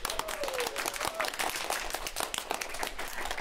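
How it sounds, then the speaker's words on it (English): Applause for a panel at a Leeds Digital Festival event hosted by KPMG, fairly faint clapping from a modest crowd with individual claps standing out, steady across the few seconds. "Please give them a round of applause"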